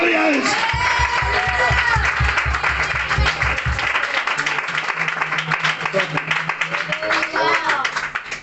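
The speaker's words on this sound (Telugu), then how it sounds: "చప్పట్లు కొట్టి" A church congregation at a sermon claps along in a steady rhythm with a loud crowd sound, while a preacher keeps speaking over it.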